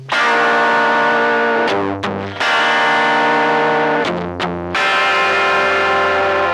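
Direct-input electric guitar run through a tape emulation effect with no amp, playing sustained, harmonically rich chords with a couple of brief gaps between strums; loud, close and alone, with a slightly distorted, processed character.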